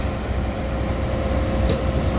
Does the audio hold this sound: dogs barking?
no